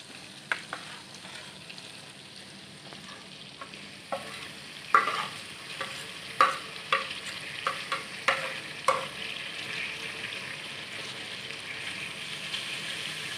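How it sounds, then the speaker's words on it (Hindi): Onion-tomato masala fries with okra for dhaba-style bhindi masala, a soft continuous sizzle broken by a run of distinct spatula scrapes and knocks against the pan that grow more frequent midway. "अब हम भिंडी में प्याज और टमाटर का मसाला ऐड करेंगे।"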